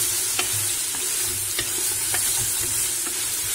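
Fresh green beans roast in a hot pan, a continuous close sizzle and crackle with a few light stirring clinks, no voices.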